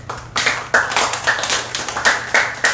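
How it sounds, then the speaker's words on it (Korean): Close, loud clapping from a small audience at a youth church service, several bursts of hands clapping in quick, uneven rounds. "이제 충성되게 우리 성계는 김예원 선생님 위해서 물론 이따가 순서가 있겠지만 박수 한번 부탁합니다"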